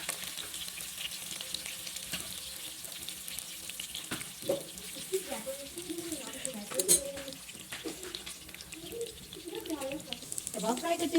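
Seekh kebabs frying in a pan give off a continuous, moderate sizzle, with scattered clinks and scrapes from handling them as the cooking goes on.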